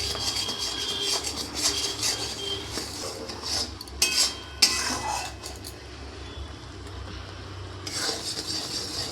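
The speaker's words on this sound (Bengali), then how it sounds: "এই গুড়টাকে নাড়তে হবে অনবরত, নাহলে বসে যাবে।" Jaggery stirred constantly in a pan while it cooks down for a peanut sweet, giving a soft steady scraping and rubbing with a few sharper metal clinks of the spoon against the pan, no voices.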